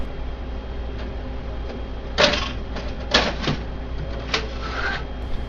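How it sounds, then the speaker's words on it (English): Paper tray of a Xerox Phaser 3300MFP printer being pulled out, a few close plastic scraping and sliding clunks over a low steady hum. "Remove the paper tray."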